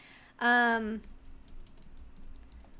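A short vocal tone opens, then light computer keyboard typing follows as a quiet, continuous patter of small clicks, close and low in level.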